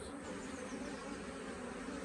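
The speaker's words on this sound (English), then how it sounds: "the bees in the cardboard box are pretty much all taking themselves into that brood box" A swarm of honey bees moving from a cardboard box into a brood box at an apiary, giving a continuous, faint, even buzzing hum with no talk.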